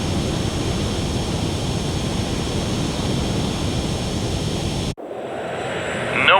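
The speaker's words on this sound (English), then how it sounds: "Incoming Allied fighters." Fighter jet in the combat flight game Ace Combat 7 roars as a steady, loud broadband engine rush for about five seconds, then cuts abruptly to a thinner, quieter whine that swells again at the end.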